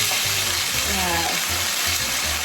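Beef with mushroom and tofu cooking in a pan with added water, giving a steady close sizzle and bubbling along with light stirring sounds.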